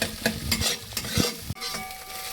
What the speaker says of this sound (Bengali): এবার বন্ধুরা হালকা করে ডিম ভাজা হয়ে গেছে, নামিয়ে নেবো।